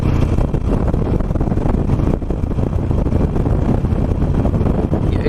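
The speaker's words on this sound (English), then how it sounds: "It's a little breezy and it is a cold wind." Cold, gusty wind roars across the microphone while riding an old Harley Nightster motorcycle, a loud, steady broadband rush with engine rumble underneath and no talk.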